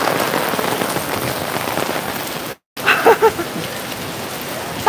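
Heavy summer downpour pours steadily onto surfaces, a dense continuous hiss of rain broken by a brief cut, then a few nearby knocks and a faint voice.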